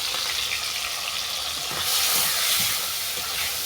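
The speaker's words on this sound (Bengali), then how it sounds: "আমি ভালো করে কষিয়ে নেব।" Spices, tomato, salt and turmeric fry in oil for a cabbage curry, producing a steady loud hiss and sizzle close by that swells briefly midway, with no voices.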